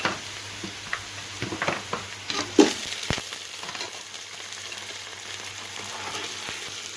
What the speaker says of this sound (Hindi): इसे डालकर हमें अच्छी तरह से भून लेना है जब तक कि चिकन का कलर चेंज ना हो जाए